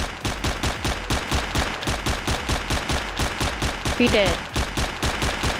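Rapid automatic gunfire from the Storming Area 51 video game rattles in a steady, loud, evenly spaced burst lasting several seconds, with a short spoken phrase partway through.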